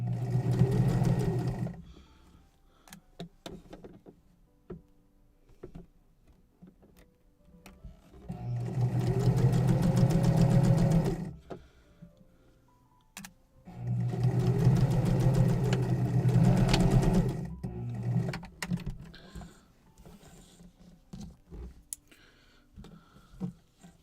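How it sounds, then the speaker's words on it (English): Sewing machine running three long bursts of straight-line stitching on an apron dress bodice, steady mechanical whirring with quiet pauses between runs, close and fairly loud. "Sewing straight lines over and over again."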